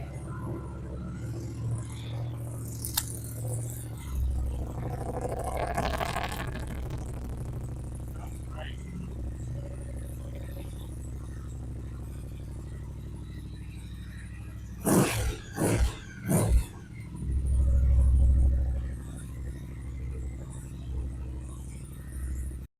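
A Triumph Thruxton RS motorcycle engine fires up in a few quick bursts, then settles into a brief deep rumble, with someone talking through most of the scene.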